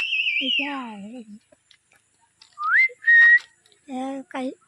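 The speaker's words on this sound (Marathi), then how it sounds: "ही पोरं शिट्टी वाजवतात" Several shrill whistled notes blown by children, some sliding upward and some held steady, in short bursts with brief pauses between them, fairly close, outdoors among mango and cashew trees.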